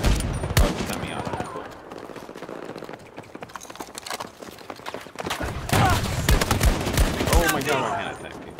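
Rapid gunfire bursts from a gun game match, loud shots clustering near the start and again in the last few seconds, under excited talking.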